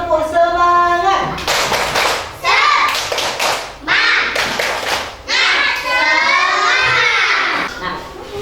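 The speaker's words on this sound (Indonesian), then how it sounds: "mari kita ice breaking, tepuk semangat dulu. Tepuk semangat!" A classroom of children performs a rhythmic spirit clap, with bursts of patterned clapping alternating with loud chanted shouts from young voices, close and lively.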